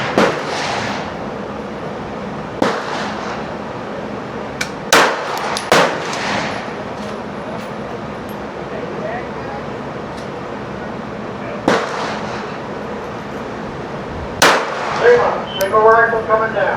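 Gunshots at an outdoor shooting range during zeroing and pistol work: sharp, loud single cracks spaced irregularly several seconds apart, with a voice speaking between shots.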